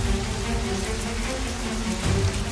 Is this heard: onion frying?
no